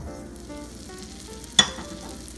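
Butter melts and sizzles in a heated wok while Filipino sisig is being cooked, a quiet, steady hiss with one sharp clink partway through and no talk.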